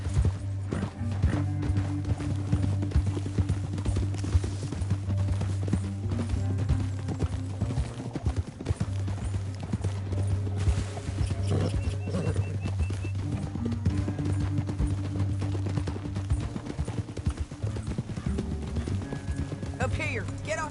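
Horses' hooves clip-clop in a steady galloping rhythm in a Western video game, a mid-level continuous drumming under spoken dialogue and a low droning score.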